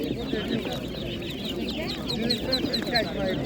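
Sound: chickens clucking at animal market

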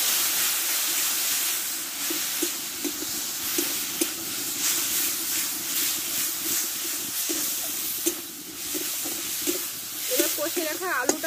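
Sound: spice masala sizzling in pan after adding water

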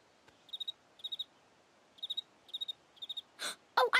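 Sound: cricket chirping

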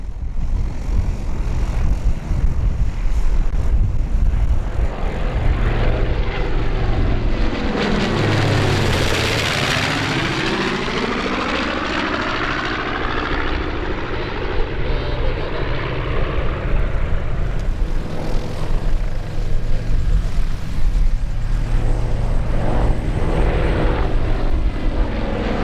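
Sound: B-25J Betty's Dream, Spitfire and Hurricane warbirds flying in formation

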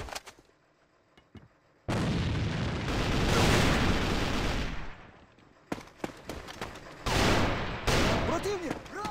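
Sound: grenade explosion in video game AVA

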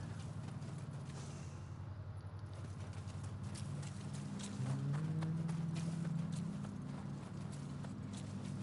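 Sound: horse hooves clip-clopping, from video game Nioh 2

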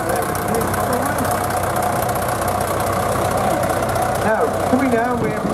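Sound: vintage Ford Major tractor engine at ploughing match

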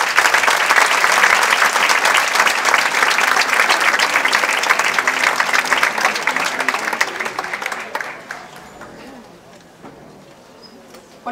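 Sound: audience applause after student performance

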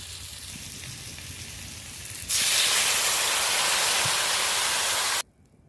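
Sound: sour curry with mango, sweet potato and fish boiling in a pot

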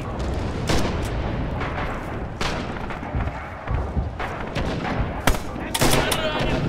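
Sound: machine gun firing in Red Orchestra 2 video game

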